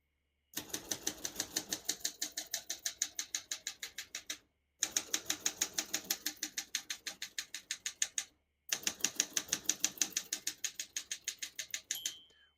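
A 1975 Olympia SM9 vintage portable typewriter being typed on: three bursts of rapid, evenly spaced key strikes, crisp and close, separated by brief pauses, with a faint bell ding near the end.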